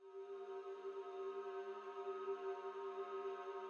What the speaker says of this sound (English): one more thing that I added is this infinite drone